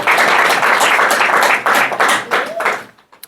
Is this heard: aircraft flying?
no